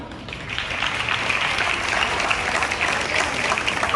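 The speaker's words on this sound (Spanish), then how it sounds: "Rebem amb un fort aplaudiment a la nostra fallera major infantil, Andrea Vivó i Hurtado" Strong, steady applause from the audience at a Valencian falla proclamation ceremony, greeting the child fallera major. Dense clapping holds for several seconds at an even level, with no talk over it.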